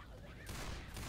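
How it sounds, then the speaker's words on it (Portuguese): Gunfire in the co-op zombie shooter Left 4 Dead 2: a short, faint, noisy volley of rapid shots with two slightly stronger bursts, muffled and somewhat distant. "se todos pararem de atirar"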